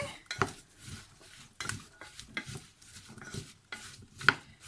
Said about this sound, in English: give it around a stir just to coat the apples